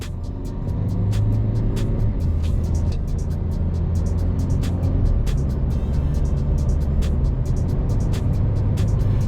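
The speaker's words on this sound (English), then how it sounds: "So look, I'm going to floor it." A Mercedes A-Class car driven hard on a motorway, a steady, loud engine and road roar building under acceleration, with repeated sharp clicks and ticks scattered throughout from inside the cabin.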